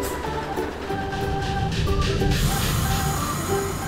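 A toy train sound in a children's vehicle and colour learning app: a loud, steady mechanical rumble with sustained humming tones, with no voices over it.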